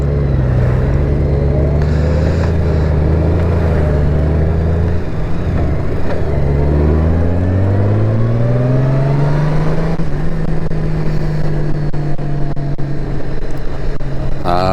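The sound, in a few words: Honda Gold Wing motorcycle engine running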